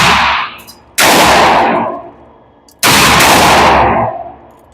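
Two loud, close pistol shots from an Alpha Foxtrot Romulus fitted with a compensator, each a sharp crack with a long ringing decay, spaced about two seconds apart with no voices.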